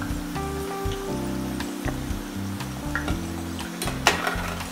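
Potato wedges frying in hot oil, a continuous crackling sizzle with occasional stirring clinks, heard under steady background music.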